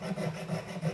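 Quick back-and-forth strokes of a hand saw cutting around a hollow form ring, a rhythmic rasping of about four pulls in a second, close and alone.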